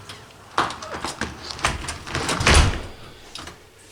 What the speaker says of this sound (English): Now you just close the door.